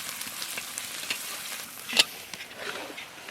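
Ground cumin paste sizzling softly in hot oil in a pan, a steady faint crackling hiss with a brief sharper pop midway, close by.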